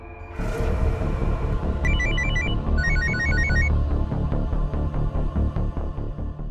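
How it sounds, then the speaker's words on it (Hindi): A telephone rings with repeated electronic trilling bursts in a dramatized crime story, sounding over a loud, steady music bed and continuing through the clip. "प्लीज फोन उठाओ।"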